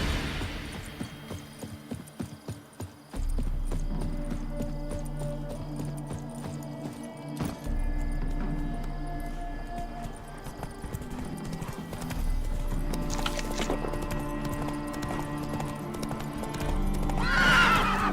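A horse in The Witcher 3 neighs loudly near the start, then hooves clip-clop in a steady galloping rhythm over low rumbling game ambience, with another whinny near the end.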